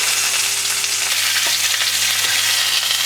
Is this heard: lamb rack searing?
yes